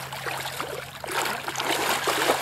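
Water splashing and trickling in the Fraser River as a seven-foot sturgeon is released, a close, brief wet churn that swells louder in the second half, with a steady low hum underneath.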